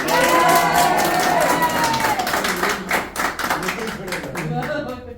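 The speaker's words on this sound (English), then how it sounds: "Can we have another round of applause" An audience claps and cheers, loud at first with a voice over it, then thinning into scattered, uneven claps and calls as the applause dies away.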